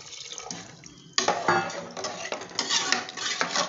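Water splashes into a pot of fried masala after a quiet start, followed by clattering of a utensil against the metal pan, close and fairly soft, while cooking mutton.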